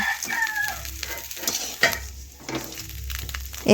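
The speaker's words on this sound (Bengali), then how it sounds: "এখন আমি খুরপি দিয়ে এইভাবে নাড়াচাড়া করে দেখুন তুলে নিচ্ছি।" Small fish frying in a kadai of oil, stirred and lifted out with a spatula; a steady sizzle runs throughout with soft scraping strokes and a few sharper clinks, close and moderately loud.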